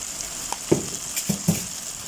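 Spaghetti sauce with ground chicken breast simmers in a pan under a soft, steady sizzle, with three or four short scraping stirs from a spoon close by.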